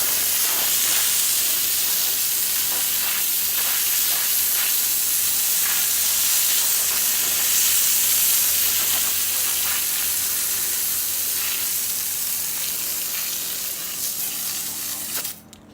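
A steady, forceful hiss of water spraying from a hose at an angle onto a clogged deck drain, continuous for the full length and cutting off at the end.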